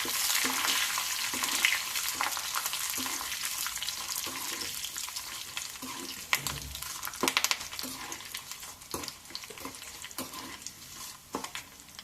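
Curry leaves and garlic sizzle in hot oil for a talimpu tempering on tamarind-dal pappu, a steady frying hiss with soft stirring clinks and scrapes throughout, close and moderately quiet.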